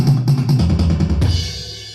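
A faster drum roll played with single-stroke triplets, as a quick burst of close, loud drum hits that ends in a sustained cymbal-like wash.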